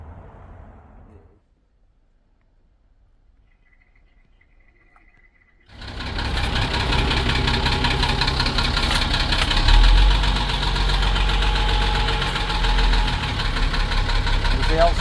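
After a moment of speech and near silence, the engine of a 1979 Dodge Commando Lamborn camper van starts up. It runs loud and steady, swelling briefly as it is revved.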